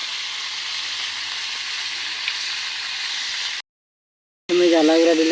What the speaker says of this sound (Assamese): এতিয়া দেখক এই বুটখিনি এনেকৈ লাৰি আছে